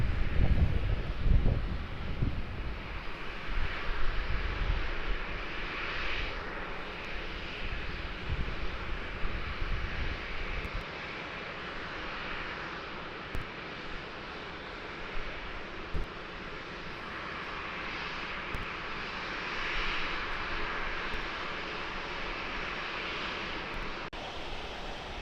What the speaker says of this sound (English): Here landing into Melbourne after the 6 hour and 42-minute flight from